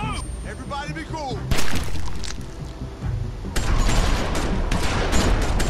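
Gunfire in The Walking Dead: Season 2 video game, a burst of loud shots and impacts amid tense game sound and dialogue, sharp and close.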